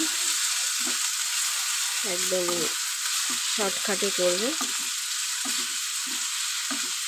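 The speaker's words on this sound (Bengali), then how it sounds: "এখানে পেঁয়াজ আলু ভাজা বসিয়ে দিয়েছি" Onions and potatoes fry in a pan with a steady, moderately loud sizzle throughout, while someone talks over it in short bursts.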